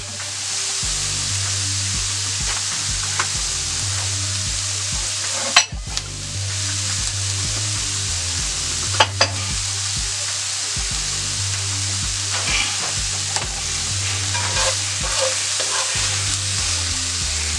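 Seasoned vegetables fry in a skillet for a country breakfast casserole, a loud continuous sizzle with occasional stirring scrapes and clinks of a utensil against the pan.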